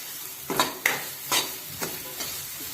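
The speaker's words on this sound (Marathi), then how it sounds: "आणि असं 1-2 मिनिटं परतून द्यायचं आहे" Sambar masala with jaggery and tamarind is sautéed in a pan, with a soft sizzle under a few quick spatula scrapes and stirs over a couple of seconds.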